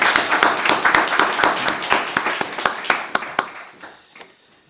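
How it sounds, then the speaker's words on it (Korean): A church congregation claps together during a Thanksgiving Sunday service, a steady run of close, loud hand claps that thins out and fades to quiet near the end. "우리 감사의 박수를 하나님께 한번 올려드리겠습니다"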